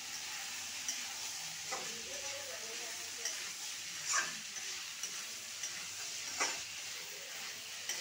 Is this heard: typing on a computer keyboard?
no